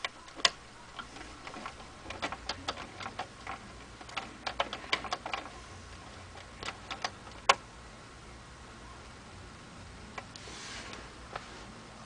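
Small mechanical clicks tick irregularly as the dial of a restored 1958 Motorola 5C18BW clock radio is turned, crisp and close, with a few louder clicks standing out in a quiet room.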